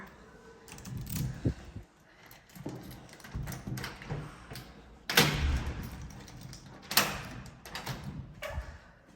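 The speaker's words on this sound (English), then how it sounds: "It's interesting having an actual key for a door." A key works the lock of a hotel room door in Jeju City, South Korea, and the door opens: close metallic clicks and jangles, a few sharp knocks and thumps, and a creak, with short pauses in between in a quiet room.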